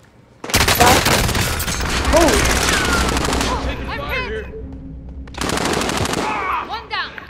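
An M4A1 rifle fires in a shooter game in two long, loud, rapid automatic bursts at close range, split by a brief lull with voices talking faintly underneath.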